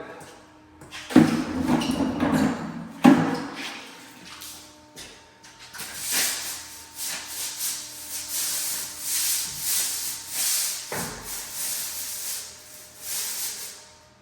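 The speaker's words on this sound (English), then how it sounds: "This is a commercial broom, hard bristle. So I'm actually scrubbing it." A hard-bristle commercial broom scrubs black mold with concentrated bleach, giving harsh, hissing bristle strokes in repeated bursts, close by, with a few louder scrapes and shuffling handling noises.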